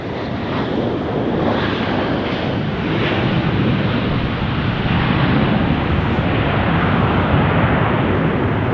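A Delta airliner takes off from Las Vegas airport in a strong crosswind, a loud, continuous broadband engine roar that holds steady and swells slightly across the stretch, with wind noise.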